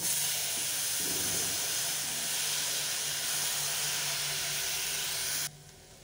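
Potato pieces sizzle in hot oil spiced with curry leaves, turmeric and salt, a dense steady hiss close up that cuts off sharply near the end.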